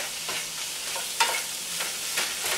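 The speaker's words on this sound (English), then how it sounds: "We're going to mix them in with the onions." Mushrooms and onions fry in a pan with a steady bright sizzle, broken by several scraping stirs that come in bursts, close and moderately loud with no talk.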